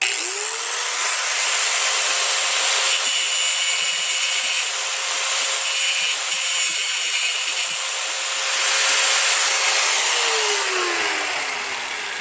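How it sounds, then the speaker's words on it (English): A cutting wheel grinds down a 7/16 metal part in a loud, continuous high whine that holds steady for about ten seconds, then drops in pitch as the wheel spins down. No one speaks. "Just going to take this 7/16 with my cutting wheel and just take it down a bit."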